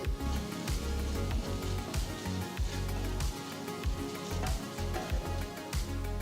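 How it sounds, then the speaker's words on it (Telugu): Finely chopped onion frying in a pan for a party snack, a steady dense sizzle with crackling pops running throughout, close and fairly loud, with no talking. "చిన్నగా తరిగిన ఒక ఉల్లిపాయ వేసి వేయించాలి"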